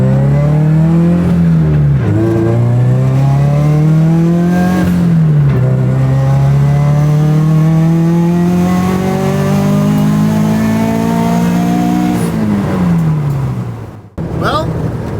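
Turbocharged FRS engine pulling hard on a test drive, loud and close with rising revs through several gear changes and a brief drop near the end, heard from inside the car.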